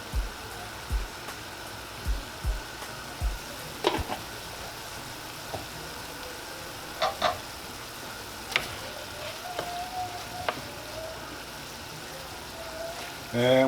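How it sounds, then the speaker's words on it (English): Ground hamburger meat with minced garlic frying in a pan gives a steady soft sizzle, with scattered clicks and taps of a utensil against the pan up close and brief quiet voices. "Just let it brown, you all. Hamburger meat is brown a little bit."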